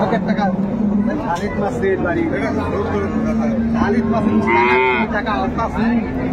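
Cows and calves lowing at Ambari livestock market in Dinajpur; several long, loud moos follow one another close by, with people talking and market chatter in the background.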